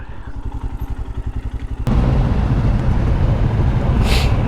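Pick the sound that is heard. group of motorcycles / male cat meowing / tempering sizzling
group of motorcycles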